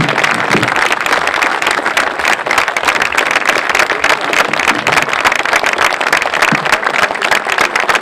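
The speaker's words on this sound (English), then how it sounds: "Please join me in giving Randy a round of applause in appreciation for all" Audience applause honoring a retiring high school soccer coach, a dense steady wash of many hands clapping that fills the whole stretch at a constant loud level with no pauses.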